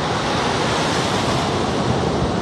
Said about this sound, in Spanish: Así se enfrenta Sofía a las olas del mar.